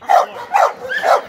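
A pit bull barks three times in an even rhythm, close and loud, with short gaps between the barks.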